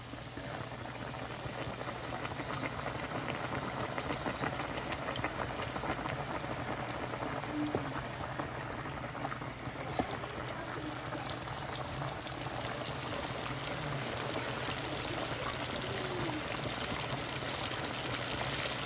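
Chicken sizzling in hot oil while frying for Nashville hot chicken, a steady dense crackle and bubbling that holds close and even throughout with no talk.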